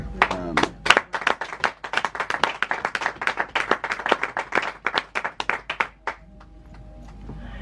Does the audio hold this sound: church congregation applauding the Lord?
yes